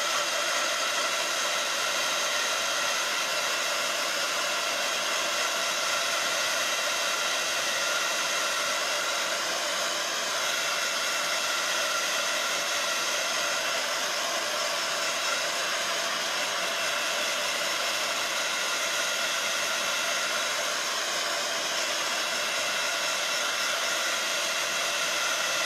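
A hair dryer blows steadily over a craft project, a loud continuous whirring hiss that runs unbroken and alone for the whole stretch.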